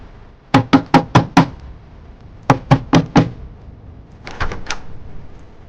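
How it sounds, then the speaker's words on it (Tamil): Loud, close knocking on a door in a TV drama, with two sets of five firm raps and then a softer third burst. "யார் கதவு தட்டுறது?"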